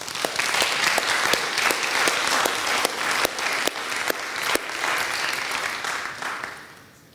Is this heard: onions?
no